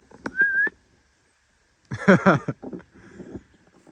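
A short rising whistle from a person, clear and fairly close, followed after a pause by a burst of voices and other noises.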